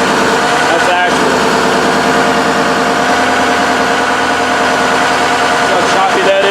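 A Ford 6.0 Powerstroke diesel with a VGT turbo fault runs rough and choppy, a loud, close engine note with uneven pulsing and a brief dip near the start, talk faintly underneath.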